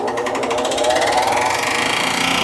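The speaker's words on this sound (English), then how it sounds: "disc's got a little bubble on it, so that's why you hear that. So it's just rubbing on the table." A workshop disc machine spins with a bubbled disc rubbing against its table, producing a loud, fast rhythmic chattering whir that rises slightly in pitch and holds steady throughout.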